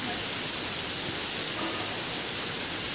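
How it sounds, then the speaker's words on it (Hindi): Heavy monsoon rain pours down outside a home in Ranchi, a dense, steady hiss of drops hitting surfaces that holds unbroken for the whole stretch at moderate distance, with no voices over it. "बाहर ये बारिश छूटने वाला है नहीं"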